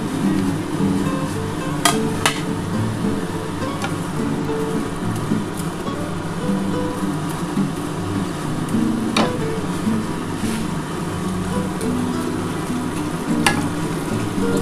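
Topse fish simmering in a spicy gravy in a pan give a steady, close sizzle and bubbling, with occasional sharp clinks of a utensil against the pan.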